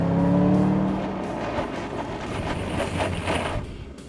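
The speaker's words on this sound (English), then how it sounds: "right now we're gonna do a 60-0 brake" A Roush-modified Ford Mustang GT brakes hard from 60 mph to a stop, a steady rushing road and tire roar that fades gradually as the car slows, with no talking.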